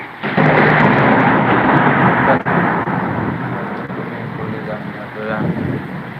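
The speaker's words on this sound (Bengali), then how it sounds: "বজ্রপাত হচ্ছে খুব" Thunder in a heavy rainstorm with rising wind: a loud, rolling low rumble that swells and fades over several seconds, mixed with rain and gusts buffeting the microphone.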